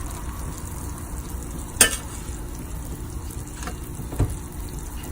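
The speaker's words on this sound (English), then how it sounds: "now we're gonna add the onions. So let's go ahead and add it." Onions and garlic fry in a pan with a steady soft sizzle while a utensil stirs them, with a couple of sharp clicks against the pan.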